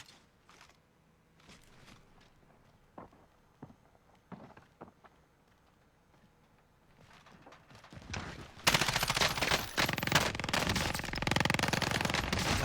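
Gunfire in the Warzone battle royale game: quiet scattered shots and clicks at first, then a sudden sustained burst of loud, dense automatic fire that carries on to the end.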